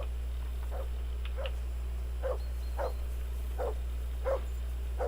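A dog in Kingdom Come: Deliverance II barks about half a dozen times in short spaced woofs at moderate distance, over a steady low hum, with no talk.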